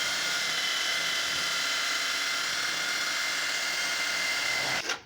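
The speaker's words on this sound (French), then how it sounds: "Et là, je perce à 16." Power drill boring a 16 mm hole through a pool pump saddle fitting on pipe for a solar pool heater, a steady loud whine held for about five seconds before stopping abruptly.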